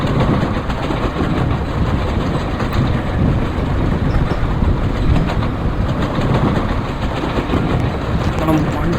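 An Indian train running at about 121 km/h in a railway simulator game gives a steady, loud rolling rumble with a faint clickety-clack throughout, continuous and unbroken.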